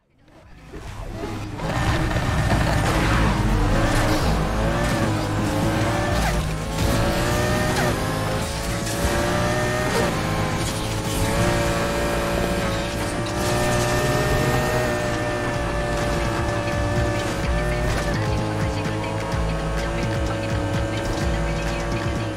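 Racing cars in the video game Need for Speed Heat roar continuously at high revs with shifting engine tones and occasional tire squeal, loud and sustained throughout with no talk.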